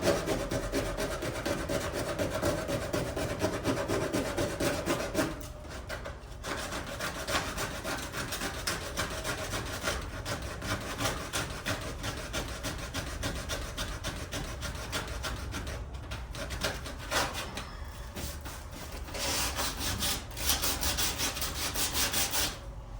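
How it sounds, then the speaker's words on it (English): A car fender flare being sanded by hand with a sandpaper strip, giving a steady, close, rasping scrub in long back-and-forth strokes with a few brief pauses; no talking. "I'm trying to sand here behind it."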